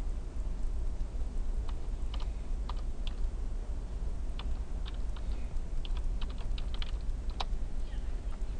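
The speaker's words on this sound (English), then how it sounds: "Now we're just going to type the IP address directly into the address bar." Quick irregular clicks of keys on a computer keyboard as an IP address is entered, close and crisp over a low steady background hum.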